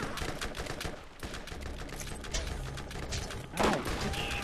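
Enemy gunfire in a Borderlands boss fight: rapid, continuous shots and machine-gun bursts at close range, with a louder impact near the end amid game noise.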